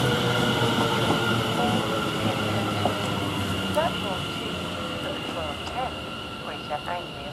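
A Greater Anglia class 720 five-car electric train at Chelmsford station, running as a steady loud rumble with rail hum and brief squeals throughout, with a voice talking over it.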